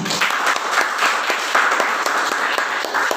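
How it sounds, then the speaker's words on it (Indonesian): Audience applause at a school seminar on positive school culture, a steady, dense crowd clapping that fills the room at close range throughout, with no speech over it. "Minta tepuk tangannya untuk Bapak Gilang."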